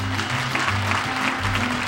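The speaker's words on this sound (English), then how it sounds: "One more round of applause for Jeff Carron." A crowd applauds steadily, a dense wash of clapping filling the room at a constant level.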